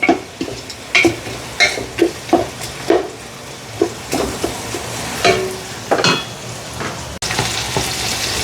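Tomatoes and onions sauté in a pan for chicken korma, with a steady sizzle and frying crackle under repeated stirring scrapes and soft spoon taps against the pan, close and fairly loud throughout.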